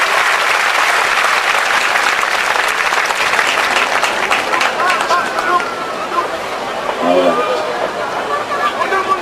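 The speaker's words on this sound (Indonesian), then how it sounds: "let's give Jesus a big clap." A church congregation claps loudly for Jesus at a revival meeting, dense sustained applause with crowd chatter mixed in that thins slightly toward the end.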